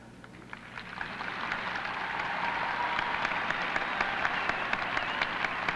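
A crowd at the Westminster Kennel Club Dog Show applauds a dog, the clapping building quickly from a few claps to a dense, steady ovation that holds at a moderate distance.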